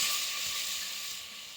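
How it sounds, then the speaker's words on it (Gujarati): Spices and red chilli powder with turmeric sizzle in hot oil while tempering green pigeon pea khichdi, giving a brief, steady hiss that eases slightly as it goes. "લીલા તુવેર દાણામાં ખીચડી વઘાર છે"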